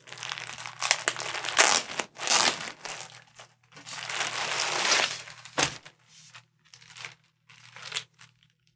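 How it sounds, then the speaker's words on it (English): Loose plastic bag packaging of a GORUCK fleece jacket crinkling and rustling close by, in several bursts of handling separated by brief quiet gaps. "Comes in a nice plastic bag."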